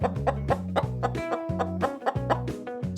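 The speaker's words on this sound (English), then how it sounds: "Our next farm friend is a chicken." A chicken clucks in quick, repeated bursts over about three seconds, sounding close and moderately loud, with a rhythmic, tonal backing underneath.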